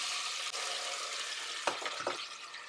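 Diced, skinned tomatoes hit a pan of garlic and red pepper frying in oil, a steady hiss with two quick splashy bursts near the end.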